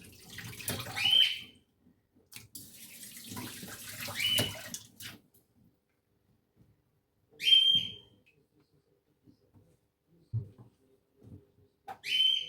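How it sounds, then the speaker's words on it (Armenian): A bony beef cut is rinsed under a running kitchen tap. Water gushes in several separate bursts with silent pauses between them, and a thin whistling tone rides on some bursts. "Միսը լվացի, վերջացրեցի"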